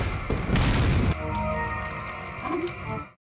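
A grenade blast in a video game booms loudly and up close, its roar lasting about a second before giving way to a ringing, rumbling tail with mechanical clatter that fades out.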